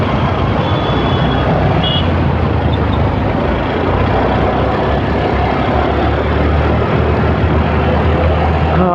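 Heavy road traffic heard as a loud, continuous rumble of engines and passing vehicles close by, with a faint beeping tone early on and no talking.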